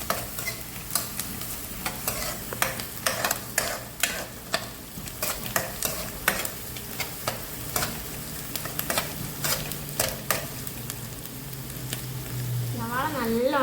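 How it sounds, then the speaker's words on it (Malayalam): Onions sautéing in a pan as the base of a mushroom masala curry, with steady close sizzling broken by repeated sharp scrapes and clacks of a spoon stirring throughout, no talking. "ആദ്യം നമ്മൾ സവാള വാട്ടുക"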